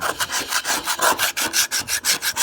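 Rust scale being scraped off metal during a DIY rust repair, a close, loud series of rhythmic rasping back-and-forth strokes at an even pace with no talk.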